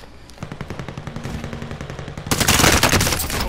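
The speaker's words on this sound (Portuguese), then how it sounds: "Estão atirando em mim." Enemy automatic gunfire in Call of Duty: Modern Warfare rattles in fast, evenly spaced bursts, growing louder and denser partway through as a heavier volley joins in, with no talk.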